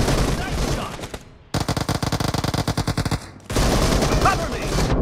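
Rapid automatic gunfire in the BGMI battle royale video game: a burst of about two seconds of evenly spaced, loud shots, set between stretches of dense game noise and chatter.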